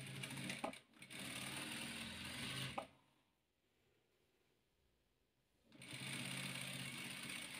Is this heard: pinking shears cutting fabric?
no